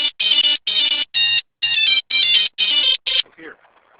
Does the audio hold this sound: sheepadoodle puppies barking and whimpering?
no